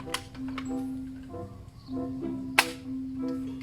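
Kar98 toy rifle firing pellets at close range: a few sharp snapping shots, each a short crack, over a steady electronic hum and mechanical clicks.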